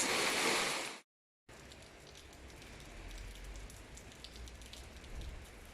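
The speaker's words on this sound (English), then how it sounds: "here right now it's a big rain with ice." Steady broadband hiss of heavy rain mixed with ice pouring down in Bucharest, Romania, loud at first, then a brief cutout before a constant, dense downpour continues without voices.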